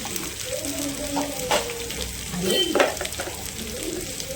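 Oil sizzles and fries in a pan as turmeric and asafoetida go in, with soft stirring scrapes, light clinks and a faint voice in the background.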